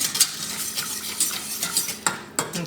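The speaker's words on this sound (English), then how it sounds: "Whisk and whisk and whisk, and it will thicken up as it cooks down." A whisk works briskly through a thickening sauce for a croque monsieur, scraping and clinking against the pan in quick, uneven strokes over a light sizzle, heard close and alone.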